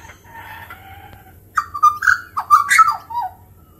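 A baby magpie calls in a burst of rising and falling chirps, fairly close and clear, after a quiet stretch with faint birdsong in the background.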